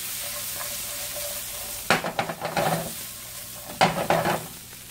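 Sliced onion sautéing in butter in a pan for garlic shrimp, a soft steady sizzle broken by two bursts of stirring scrapes midway and near the end.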